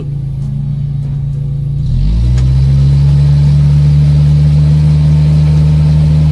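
A Suzuki Vitara five-door engine drones loudly at a steady low pitch, then revs up and holds a stronger, higher, sustained whine while one wheel spins, close to the car.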